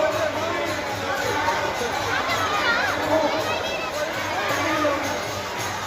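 A large crowd gathers at night at a religious gathering, a constant murmur of many voices and distant shouts, with closer talking mixed in throughout.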